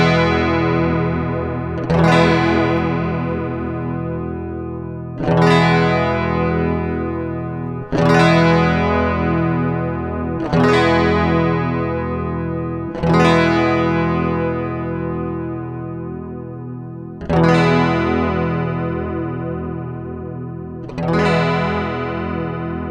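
Electric guitar played through a chorus or flanger pedal with rate and depth controls, repeated sustained chords struck about every three seconds, each swirling and wobbling as it decays, loud and close with no voices.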